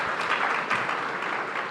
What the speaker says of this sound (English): Let's clip the applause for our speaker